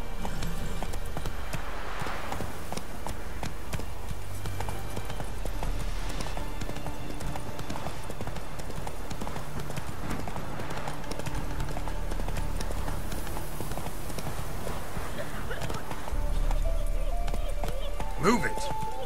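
Horse hooves galloping in The Witcher 3 video game, a steady rhythmic clip-clop running throughout under game music and ambience, with a voice speaking over it at times.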